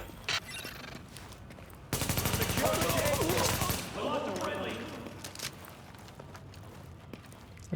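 Video game combat at a munitions hub: a loud stretch of rapid automatic gunfire with blasts lasting about two seconds, then scattered shots and impacts under ongoing talk.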